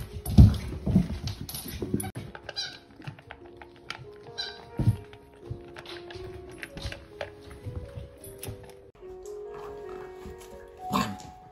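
Six-week-old puppies play indoors, with scattered squeaks, little yips and soft pattering and scuffling, irregular and close throughout.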